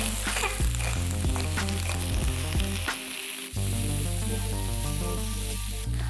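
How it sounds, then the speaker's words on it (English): Vegetables seasoned with salt sauté in a pan, giving a continuous loud sizzle and frying crackle throughout, with brief stirring scrapes and a short dip in the middle. "I'm just gonna saute these vegetables for about 10 minutes so a lot of the liquid can evaporate out of them"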